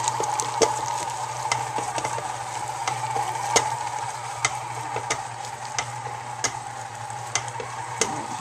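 A mixer churns thick fruit cake cookie dough as the beater is raised and lowered, giving a steady motor hum with regular light clicks and knocks from the bowl, close and continuous with no talking.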